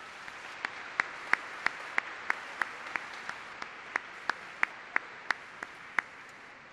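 Sparse, steady clapping from an audience at a solemn session honoring Black Latin American and Caribbean women, with evenly spaced sharp claps ringing out in a quiet hall and no talking.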